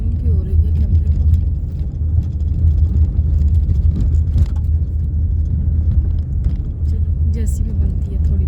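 Inside a moving car, a steady engine rumble and road noise hum along for several seconds, with faint rattles and clicks from the cabin and a person talking over the drone.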